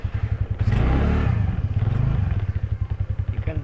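A motorcycle engine thrums with a steady, close, low pulsing beat, swelling into a brief rev before settling back to a rhythmic idle-like chug on a rainy, muddy road.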